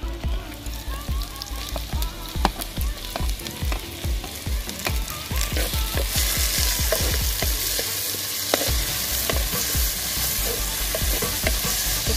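Tomatoes frying in a pan sizzle continuously, with rapid repeated scraping and clattering strokes of stirring that grow denser and louder in the second half.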